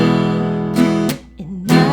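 An acoustic guitar plays the full chorus strumming pattern for a song. Several loud, close strums ring out, and a sung melodic line comes between them.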